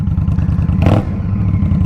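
A 2023 Indian Scout Rogue motorcycle engine through aftermarket pipes, a loud close low rumble with a brief sharp rev surge in the middle before settling back to idle.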